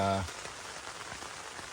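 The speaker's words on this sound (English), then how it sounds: "I'll just lay here and listen to the rain." Rain falling on a new camping tent at a state park campground, a soft steady patter of drops continuing evenly after a brief low thump at the start, fairly quiet and without talk.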